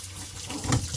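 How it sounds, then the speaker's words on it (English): Water running steadily from a pull-out drinking water spigot into a large farm-style sink in a 2018 Newmar King Aire motorhome, a close, continuous hiss with slight splashing. "Pull out, drinking water spigot right there."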